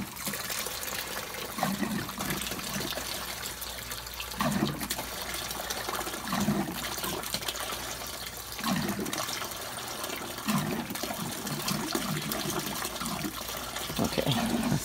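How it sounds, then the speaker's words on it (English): Gasoline pours steadily into a plastic bucket, filling it with about two gallons, a continuous close liquid trickle and splash that swells in brief louder surges, with no talking. "Never put gas in a bucket before"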